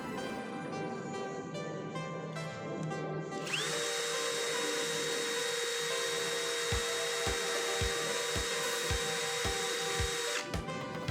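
A Nagawa NCB1021 brushless cordless drill on a JLD 3000 mAh battery, first speed setting, spins up with a steady high whine that runs evenly for several seconds, with light regular clicks beneath it, then cuts off.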